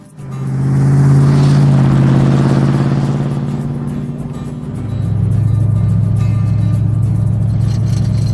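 A truck with an old cam runs and revs at close range, its loud engine rising to a steady roar, easing off, then settling into a lumpy idle, with no voices.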